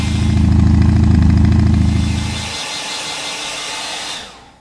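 A hair dryer runs loud and steady, blowing to dry fresh artwork, then drops to a lower, thinner whir for a second before cutting off.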